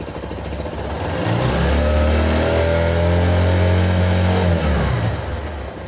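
A Hero Platina motorcycle engine, an H-Gear model fitted with a large 5 LB battery, idles and is revved up steadily, holding a loud, close, rising drone for several seconds before easing back, with no talking.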